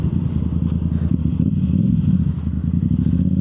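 A Yamaha YZF R7 motorcycle fitted with a Yoshimura full exhaust runs close by, its deep, steady engine drone throbbing with some mechanical clatter and no talk over it.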